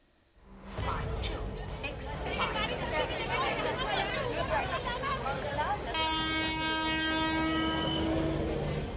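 A busy, crowded platform at Khed railway station in Konkan, with a crowd chattering over a train's rumble and a loud, sustained train horn blaring near the end.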